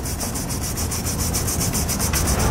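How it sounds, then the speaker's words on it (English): A tube brush with lubricant scrubs inside threaded mounting holes on a 2014 vehicle's frame for a Draw-Tite Max-Frame hitch, giving a loud, continuous close-up rasping with a fast back-and-forth pulse. "I'm just going to use a little lubricant and a tube brush to clean it out."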